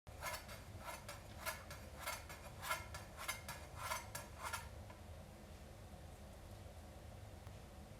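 A knife slices thin pieces of avocado for a sushi rainbow roll, about seven crisp cuts in a quick even rhythm that stop halfway through, then a quiet kitchen.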